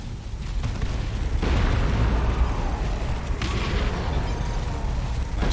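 A nuke detonates in Warhammer 40,000: Dawn of War 2, a deep, sustained rumbling blast with a burst near the middle and another swell later, loud and continuous throughout.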